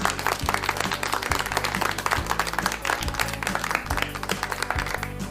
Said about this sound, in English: For that, everybody deserves a round of applause.